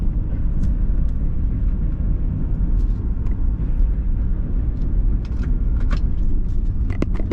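A Jeep WJ drives along a trail with a heavy, steady drivetrain rumble and whine from a troubled transmission, with occasional faint rattles and clicks over the drone and no voices.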